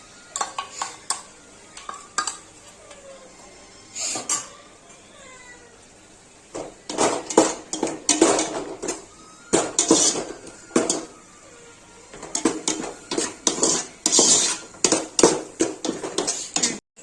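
Ginger garlic paste being stirred and sautéed in a pan for homemade chicken fried rice, with repeated scraping and clinking bursts of a utensil against the pan over a faint sizzle, loud and close, no talk.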